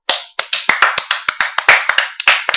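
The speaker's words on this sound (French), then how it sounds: "Ah, on peut applaudir, je crois" About a dozen crisp, close hand claps in a fairly steady rhythm follow a bad pun on a French jokes podcast. Only a person or two seem to be clapping, with silence between the claps.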